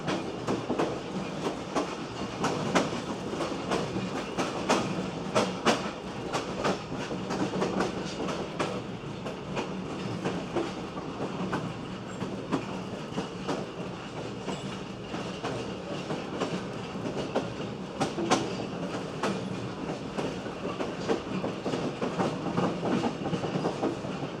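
A train rolls steadily along the tracks, its wheels clacking in a dense, continuous rumble with rhythmic clicks, close and fairly loud throughout.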